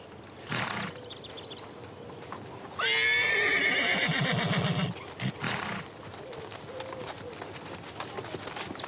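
Horses on a transhumance drive in the Haut-Var, southern France, give a loud, close whinny lasting about two seconds, surrounded by clip-clopping hooves and a few birds calling in the open air.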